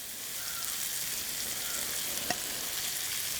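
Chopped cabbage hitting hot coconut oil in a pan as it is stirred in, a soft steady sizzle with one sharp scrape of the spoon near the end.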